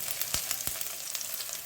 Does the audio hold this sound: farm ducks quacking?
no